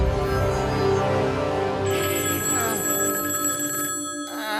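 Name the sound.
telephone ringing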